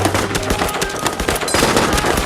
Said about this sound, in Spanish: provocó un tiroteo feroz.